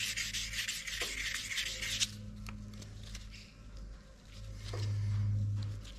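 An oil pump part from a Mitsubishi 4G64 engine is polished during a rebuild, a steady scratchy rubbing that runs for a couple of seconds and then gives way to quieter, softer strokes and low background hum.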